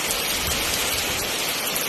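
Steady rain falls during the rainy season in Bicol, a dense, even hiss of rain with no breaks, loud and close, and no voices.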